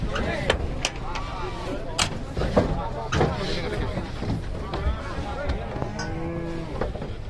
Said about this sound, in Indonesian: Sapi dari Mangunsari. Ngeri.